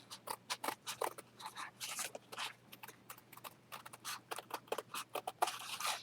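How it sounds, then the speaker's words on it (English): Scissors snip around a paper circle in quick, uneven bursts of crisp cuts and slides, close and fairly quiet, with no talking. "I'm gonna go ahead and cut this circle out."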